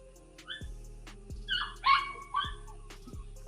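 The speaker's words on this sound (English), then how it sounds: "Hear the dogs in the background?" Dogs barking in the background, a few sharp separate yips and barks spread out at moderate distance over a low hum, with no talking.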